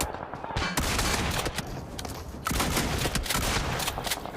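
Rapid gunfire bursts and explosions from the video game PUBG Mobile crackle densely through the whole moment, loud and close with overlapping shots.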